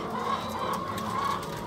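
Hens crowded into battery cages cluck continuously in a dense, overlapping chorus with no pauses and no voices, moderately loud and close.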